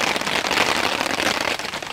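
Water drops shaken loose by wind fall from trees onto a rainy campsite, a dense close patter like steady rain hitting tarp and ground, fairly loud and continuous.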